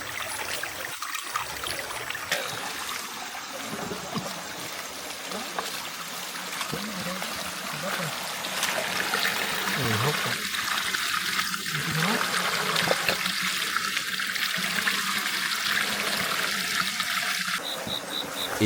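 Fast-moving stream water rushing steadily through a tropical rainforest at night, a continuous broadband wash with occasional louder splashes, and faint voices now and then in the background.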